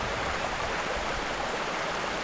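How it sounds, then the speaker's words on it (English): A trickling stream near a waterfall by a bridge in the Pacific Northwest gives a continuous, even wash of running water, steady and fairly close with no other sounds. "And it's just a trickling stream."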